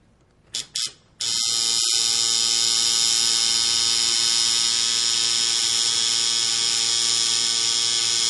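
A tattoo machine runs a line on skin, settling into a loud, steady electric buzz after a couple of short starts and clicks.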